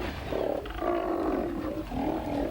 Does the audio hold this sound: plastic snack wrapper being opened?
no